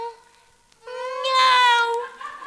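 A human voice imitates a cat meowing, with two drawn-out, rising and falling mews, the second louder and longer.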